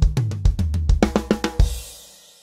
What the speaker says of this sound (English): because of linear playing, where we're mixing between the hands and feet, it sounds like this.